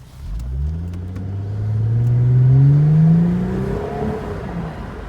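A 2015 Mercedes-Benz SL400 twin-turbo convertible accelerates smoothly, its engine note climbing steadily through a gear and then easing, heard clearly from inside with no talking.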